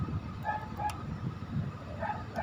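A pet dog barks repeatedly at a moderate distance, giving a series of short, rhythmic yaps over a low rumbling background.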